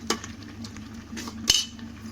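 A spoon stirring salt into bottle gourd halwa in a pan, a couple of bright metallic clinks and soft scraping over a quiet background.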